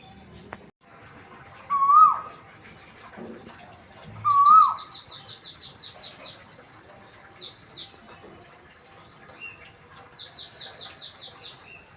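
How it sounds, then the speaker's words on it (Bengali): Asian koel calling outdoors in the early morning, two loud rising whistled notes followed by a long run of quieter repeated chirping calls, with other birds faintly in the background. "কোকিল কিন্তু এটা"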